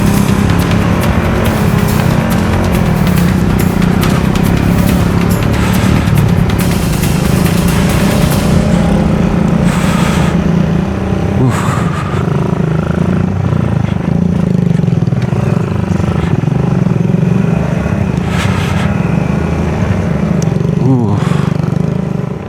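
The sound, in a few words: trail motorcycle riding through sand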